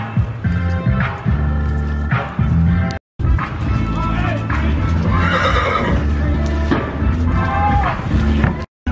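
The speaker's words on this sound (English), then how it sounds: "This is his horse right here." Horses at a Monroe, Louisiana Mardi Gras trail ride parade whinny loudly and repeatedly while hooves clip-clop nearby, with crowd chatter and voices mixed in throughout.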